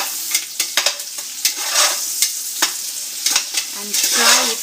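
Chopped ginger and garlic cloves frying in a pan for mutton stew, with a bright, crackling sizzle broken by repeated clinks and scrapes of stirring, close and loud.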